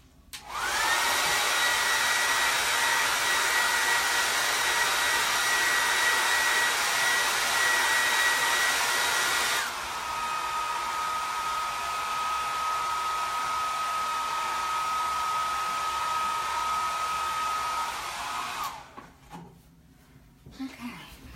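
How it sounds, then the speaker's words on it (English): A hair dryer blows hot air onto wet chalk paste in a close, loud, continuous rush. Its tone drops to a lower setting about halfway through, then it shuts off near the end, followed by brief handling noises. "I'm going to take this off screen real quick and blow dry it real fast."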